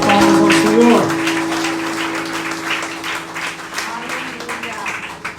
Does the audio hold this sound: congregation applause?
yes